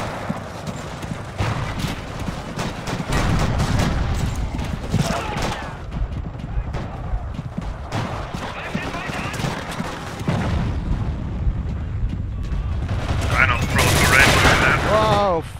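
Rifle shots crack out during a Forgotten Hope 2 battle at Brest, scattered reports and distant booms punctuating a noisy battlefield while people talk over the fighting.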